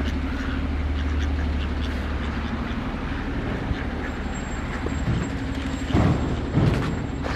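Ducks quack in a few short, loud bursts near the end, over a steady low rumble of outdoor background noise on a snowy winter morning by Canal Saint-Martin, Paris.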